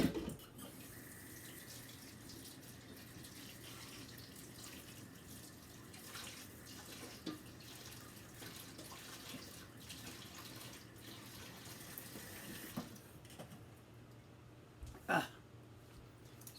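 Kitchen tap running steadily while utensils are washed up after making roti dough, a faint continuous water hiss with a few small knocks and clatters near the end.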